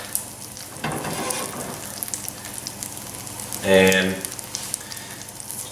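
Jalapeno corn fritters sizzle in a pan over medium-high heat with a soft, continuous frying hiss, a brief louder burst near the end, while someone talks over it.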